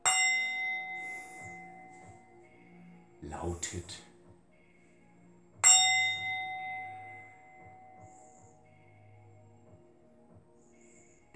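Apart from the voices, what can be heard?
bell strike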